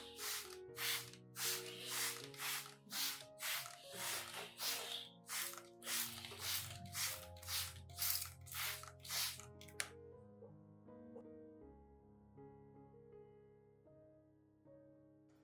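A spray bottle mists an orchid with cinnamon solution in about fourteen sharp, evenly spaced hissing puffs. The puffs stop partway through while soft background music continues.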